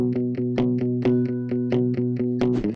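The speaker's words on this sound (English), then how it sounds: "let's make these muted guitars really distorted" Heavily distorted, palm-muted electric guitars in a Phoebe Bridgers-style indie rock arrangement chug in short, evenly spaced hits, loud and up close with no voices.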